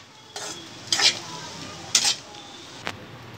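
A spoon stirs spinach through rice in a pan for jeera palak rice, sounding as four short scraping strokes against a faint steady sizzle.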